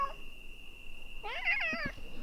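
A cat gives a single drawn-out meow, close and clear, over a steady high-pitched background whine in a quiet indoor room.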